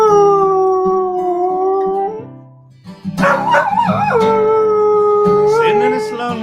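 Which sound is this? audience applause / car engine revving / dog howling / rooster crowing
dog howling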